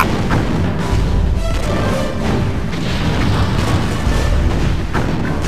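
Starship weapons firing in the Star Trek Bridge Commander video game, a continuous dense roar of booming blasts and rumbling impacts throughout, loud and unbroken with no clear pauses.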